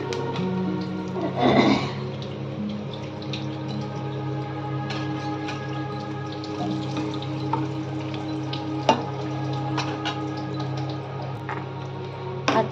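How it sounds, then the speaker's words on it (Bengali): Whole cumin seeds and dried red chillies tempering in hot oil, a steady close sizzle and crackle with a brief louder burst near the start, no talking. "তেলটা গরম হয়ে গেছে আমি এবার এর মধ্যে একটু গোটা জিরে ফোড়ন দেব দুটো শুকনো লঙ্কা ফোড়ন দিলাম"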